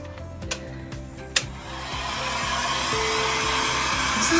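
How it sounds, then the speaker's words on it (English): A heat gun blows steadily onto a chalk-painted canvas, a continuous airy whoosh that builds and holds throughout, with a couple of small sharp knocks near the start. "and then I'm just gonna heat gun this"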